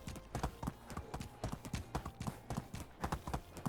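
Horse hooves clip-clop in the video game Medieval Dynasty in a quick, steady rhythm, close and fairly loud over a faint low background.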